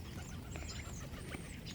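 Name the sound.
ducks at the shoreline being fed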